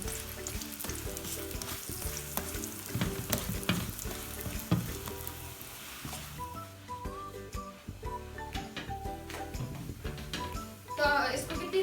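Food fries in hot oil with a loud, crackling sizzle and occasional stirring noises, while people talk over it throughout.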